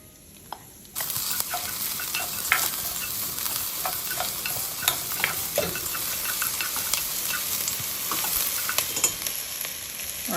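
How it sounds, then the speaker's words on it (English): Onions hit hot oil in a preheated cocotte and sizzle steadily, a dense close frying hiss with occasional crackles and stirring scrapes, starting abruptly after a moment of quiet and continuing without talk. "So we're gonna saute our onions here first."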